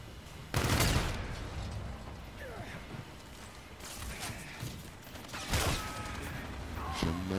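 A rifle in Call of Duty: Infinite Warfare fires loud, close bursts, with a few separated volleys and mechanical clicks between them, heard under a speaking voice.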